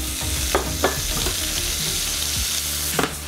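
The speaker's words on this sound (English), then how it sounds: "And we can add the red onion and cherry tomatoes to the pan." Red onion and cherry tomatoes sizzle in a hot pan with a steady, close frying hiss and a few sharp crackles and stirring clicks.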